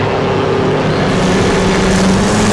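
A race car engine in a 1953 Indy 500 video game race, close to blowing up, drones loudly and continuously with a steady, slightly wavering pitch and no talk.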